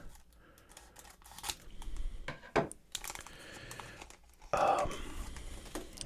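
Scissors snip and rustle at close range, a series of short crisp cuts mixed with paper crinkling and handling noises.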